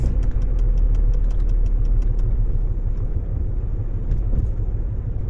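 A car is driven onto the expressway at Seaford Oyster Bay South on Long Island; a steady engine and road rumble sound loud from inside the cabin, with a faint ticking heard over the first half.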